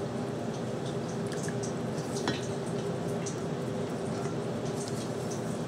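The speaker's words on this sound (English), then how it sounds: "Now, you want to stir this" A thick, sticky ginger cake batter with allspice, cinnamon and ginger is stirred in a bowl, making soft, wet, squelching strokes that continue steadily at close range.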